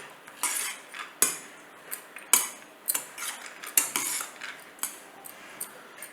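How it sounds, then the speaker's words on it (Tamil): A spoon scrapes and clinks against a bowl in an uneven rhythm as ingredients are mixed, close and fairly quiet, with no talking. "இப்போ இது எல்லாத்தையும் நல்லா கலந்து விட்டுடலாம்."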